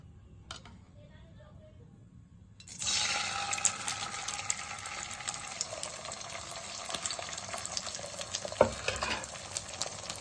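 Oil heats in a kadai for an egg roll omelette: after a quiet start, a sudden loud sizzle bursts up and holds steady, close by, with a few clinks, and a voice is briefly heard at the start.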